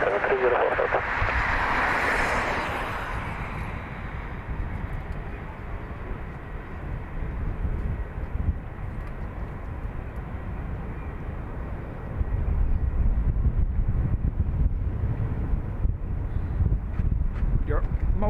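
Antonov An-124 heavy-lift cargo jet on its takeoff run at Dublin Airport, a broad continuous roar with wind buffeting the microphone, swelling louder toward the end, with radio chatter.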